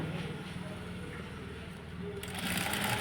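Sewing machine stitching a straight blouse side seam, a steady close whirring hum that continues throughout and grows slightly louder and brighter toward the end, with no clear talking.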